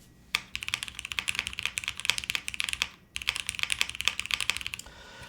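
Brisk typing on the Alexa mechanical keyboard with gasket top mount, long pole and Cherry switches, crisp close clacks in two fast bursts separated by a brief pause.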